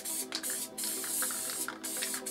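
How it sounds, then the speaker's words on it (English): Continuous hissing spray from a Dope 400 Classic aerosol paint can, close and loud, with a few brief pauses between bursts. "when you're spraying it light, the cap, all the overspray that comes off it"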